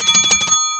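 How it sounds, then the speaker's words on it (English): A small bell rings in a quick cluster of bright metallic strikes with a shimmering ring that fades out cleanly, close and fairly loud, with no talk over it. "It's my bell"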